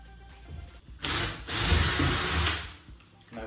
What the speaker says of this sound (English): I'm going to just drill a hole to make sure there's no timber there.